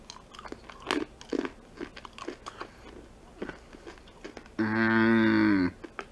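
Crisp, close crunching and chewing of trail mix with almonds, cashews, peanuts, M&Ms and raisins, irregular bites repeating through the clip, followed by a brief loud tonal sound near the end.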